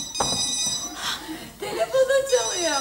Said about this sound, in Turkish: Ama telefonu çalıyor.